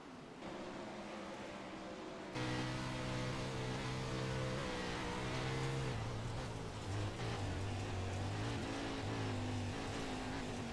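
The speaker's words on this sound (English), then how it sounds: "Listen to how careful Merriman is on that throttle, and now he's got to run" A 410 winged sprint car at a World of Outlaws race at Williams Grove roars loudly and continuously on the throttle, its engine note rising and dipping as it comes on power, near and alone without talk.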